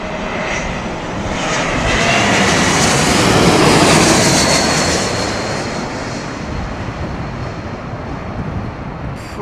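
A twin-engine airliner with high-bypass jet engines roars past at London Heathrow Airport on a windy, stormy day, the broad rumble swelling to a loud peak then slowly fading into a lingering wash of engine noise.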